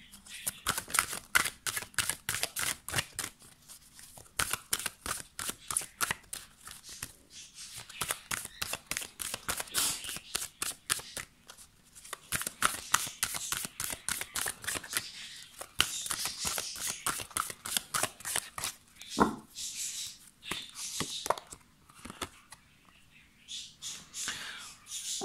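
Tarot cards are shuffled and drawn in a long run of quick, crisp clicks and flutters up close, with brief pauses between bursts.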